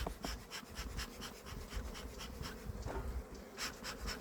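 Honeybees buzz steadily across an open hive frame while the queen moves over the comb, a dense close hum with flickering wingbeat bursts and no voices.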